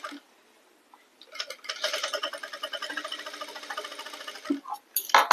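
A sewing machine stitching a blouse: a short motor burst at first, then a few seconds of steady, rapid, close-up stitching chatter, followed by a brief pause and a final quick burst.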